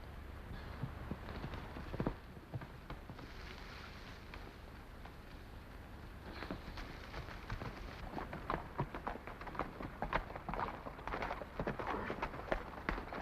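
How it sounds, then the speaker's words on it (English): Horse hooves clip-clop irregularly over wind noise, sparse at first and then a quicker, busier run of steps, fairly faint and distant. "Get on your horse."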